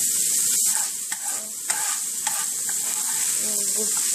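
Meat sizzling and crackling steadily in a hot pan, with occasional sharp pops and a utensil scraping and stirring close by.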